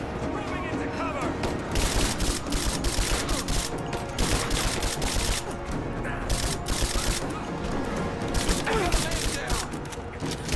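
Heavy gunfire in Rise of the Tomb Raider on Extreme Survivor difficulty, dense rapid bursts and overlapping shots roaring continuously and loud throughout, with voices talking underneath.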